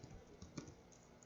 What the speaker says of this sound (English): then we're going to type our domain name